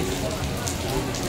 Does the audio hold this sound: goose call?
no